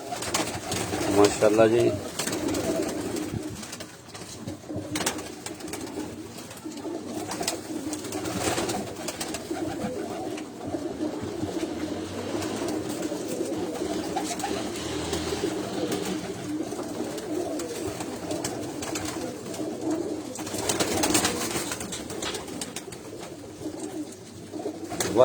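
Breeder pigeons coo softly and continuously in a loft, a steady low murmuring bed with a voice talking over it.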